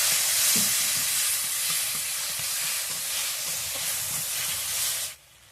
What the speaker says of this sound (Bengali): এরপরে আম বাটাটা দিয়ে দেবো, আর আদা বাটাটা দিয়ে দেবো, ভালো করে কষিয়ে নেব।